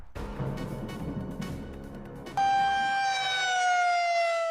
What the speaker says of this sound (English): Tornado sirens. For years, they were a staple for warning people when dangerous storms moved in.